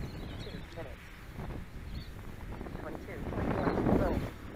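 Gusty wind buffets the microphone at an RC jet flying field where a 70mm EDF F9F Panther model is flying, a broad rumbling roar that swells louder toward the end, with someone talking over it.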